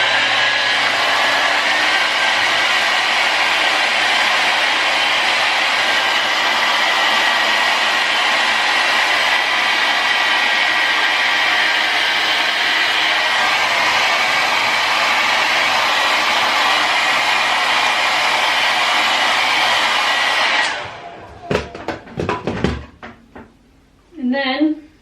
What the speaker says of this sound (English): Put it on my hairdryer and then I just blow dry them all down.